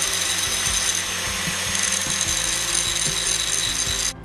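A power driver sinks a self-tapping screw into the upper timing cover of a 2.4L PT Cruiser engine, a steady buzzing whir that runs for several seconds and then abruptly cuts off.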